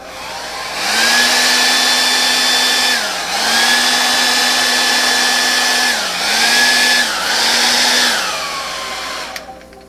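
A hair dryer blowing across wet paint runs loud and close, its steady whine dipping in pitch a few times as the airflow is briefly blocked or moved, then cutting off.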